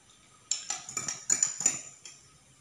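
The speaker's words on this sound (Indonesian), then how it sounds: "kita aduk ya teman-teman ya" A spoon stirs water in a glass to make a drink, giving a short run of clinking taps against the sides, close and fairly quiet, with no talking.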